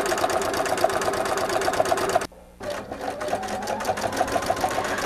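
Sewing machine stitching across a quilted zipper pouch, a loud, steady fast-pulsing whir that stops briefly for a moment, then resumes and runs on.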